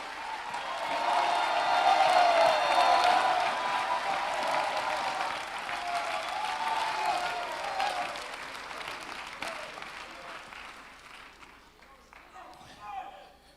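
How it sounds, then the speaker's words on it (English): Worshippers at a revival service clap their hands and shout in a long, moderately loud wash of crowd noise that slowly fades, with voices mixed in throughout. "I need you to clap your hands and shout"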